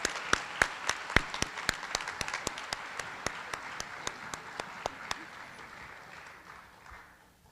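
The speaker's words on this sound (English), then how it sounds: "Can we please give a round of applause to all of our generous donors?" Applause for scholarship donors at a scholarship night, a moderate crowd clapping that begins with sharp individual claps and fades out over about seven seconds.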